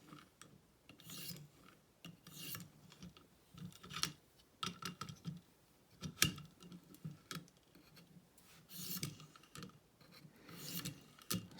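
A Cruwear steel knife blade is polished on lapping films in a ViperSharp sharpener, producing quiet, rhythmic rasping strokes in repeated bursts with no talking.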